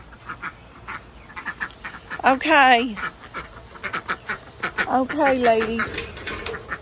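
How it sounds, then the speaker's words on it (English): Ducks quack up close while eating watermelon rinds, with several short bursts of nasal honking calls between quieter pecking sounds. Someone speaks briefly over them. "The ducks love that watermelon."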